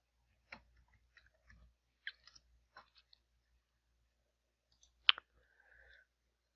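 Sparse mouse clicks in a quiet room while using Selenium IDE, several soft isolated clicks spread out, with one sharper, louder click near the end.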